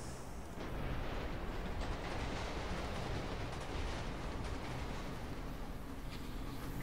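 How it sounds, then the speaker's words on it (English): Riding a tram in the City of Heroes video game through King's Row: a steady, loud rumbling rush of rail travel with a dense, continuous roar and no talking. "Haven't used the tram in quite a while."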